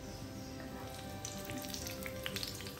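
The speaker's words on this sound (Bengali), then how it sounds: "প্যানটাকে একটু কাত করে ধরে কাবাবগুলোকে এরকম লালচে করে ভেজে নিচ্ছি" Nargisi kebabs fry in hot oil in a tilted frying pan, giving a steady close sizzle with faint crackle and bubbling throughout, no voices.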